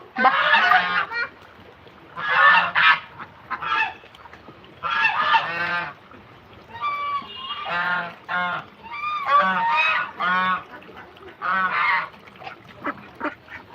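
Farm ducks calling after rain, loud honking and quacking bursts repeating in a rough rhythm close by, with short gaps between clusters of calls.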